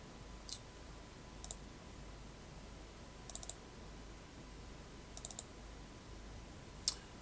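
Quiet computer mouse clicks while working in SDR# radio software, a few sharp single and double clicks spaced a second or two apart against a faint steady room hiss.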